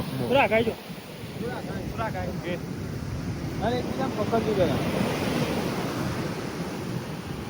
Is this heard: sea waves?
yes